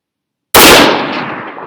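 A single loud 6.5 Creedmoor rifle shot cracks out of silence and trails into a long rolling outdoor echo.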